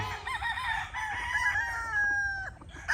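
A red Gilmore Cross gamefowl rooster with a straight comb gives a single loud, close crow, rising and then drawn out before trailing off.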